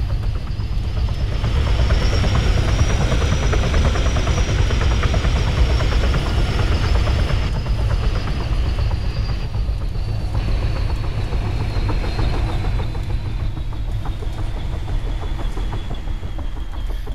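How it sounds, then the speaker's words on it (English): A vehicle engine idles in the ArmA 3 video game, a loud, steady mechanical drone with a faint high whine. It holds throughout without a break, and no voices talk over it. "Now turn your engine off"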